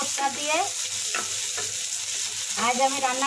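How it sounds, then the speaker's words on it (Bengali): Shrimp sizzle and crackle in a hot pan with onion and garlic, stirred now and then, a close, steady frying hiss with no talking. "আর এই যে পেঁয়াজ রসুন দিয়ে এই যে চিংড়ি মাছকে একটু ভেজে নিচ্ছি"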